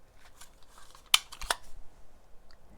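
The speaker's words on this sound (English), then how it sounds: "I'm just using a rotary cutter" A rotary cutter slices through decorative deco mesh in a quiet room, giving two sharp, close cutting snaps a moment apart with faint rustles around them.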